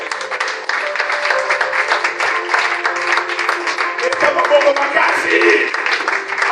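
A congregation applauds at a full gospel church service in Muanda, steady rhythmic clapping running throughout with voices singing or calling out over it.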